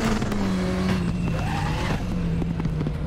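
A race car at Anderstorp brakes hard, drops down through the gears to first with engine revs rising and falling, and the tyres squeal briefly as the rear slides into oversteer, loud and close throughout.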